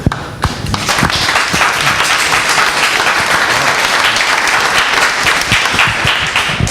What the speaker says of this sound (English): I noticed the enthusiasm of the clap.